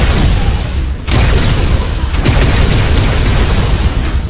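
Powerful gun blast in Minecraft, with heavy booming explosive bursts and a loud, sustained rumbling roar that stays close and dense throughout.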